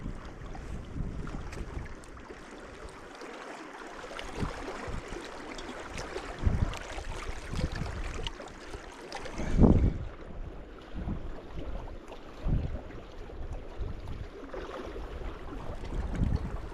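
Strong wind gusts buffet the microphone outdoors while trout fishing in snow, a steady broadband rush with a louder blast midway and no talking.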